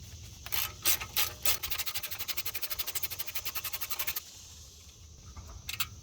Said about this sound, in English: Grab your 8mm socket and begin removing the 3 IWE bolts.